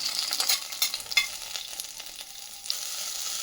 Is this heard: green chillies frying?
yes